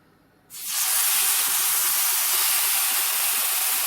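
Chicken pieces for shawarma are laid onto a hot grill pan and hit it with a sudden loud hiss. The sizzle swells within half a second and holds as a steady, close, crackling spray of sound.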